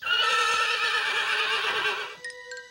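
A cartoon horse neighs loudly in a long, shaky whinny with strong harmonics, trailing off into a quieter tail near the end; no talk is heard over it.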